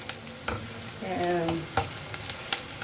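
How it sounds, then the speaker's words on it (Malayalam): Green chilies and curry leaves with their stems sizzle in hot oil in a pan, a soft steady frying hiss broken by sharp crackles and pops, with a brief stirring scrape midway. "പച്ചമുളകും കറിവേപ്പിലയും അതിൻ്റെ തണ്ടൊക്കെ ഇട്ട് ഒന്ന് മൂത്ത് വരണം"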